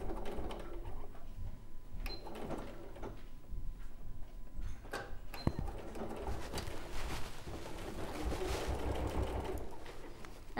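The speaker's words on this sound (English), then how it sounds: "I've got a longer stitch because we're top stitching" A sewing machine topstitching a tote bag with a longer stitch, running in steady bursts with short pauses between, moderately close, no voices.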